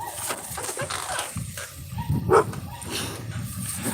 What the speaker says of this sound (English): They're barking at the dog over there. The dog's barking at them.